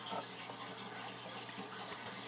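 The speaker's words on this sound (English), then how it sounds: "we're gonna put a splash of milk" A splash of milk pours into a bowl of beaten eggs, a steady gushing liquid sound that runs continuously and fairly close in a home kitchen.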